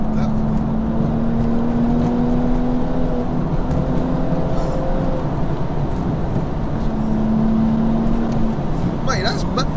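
A 500bhp wide-body BMW M235i pulls hard in one long, steady acceleration, its engine drone loud and continuous while people talk over it inside the car.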